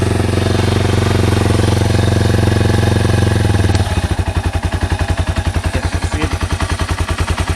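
A Yamaha TW200 motorcycle engine with a fuel-leaking carburetor runs at idle, a loud steady hum that shifts halfway into a close, rapid, even putt-putt thumping.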